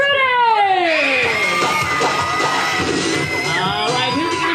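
A crowd of children screams and cheers at a pig race at the 2024 Manatee County Fair. The high shrieks overlap, stay loud and constant, and the yelling carries on throughout.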